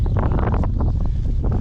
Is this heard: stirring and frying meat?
no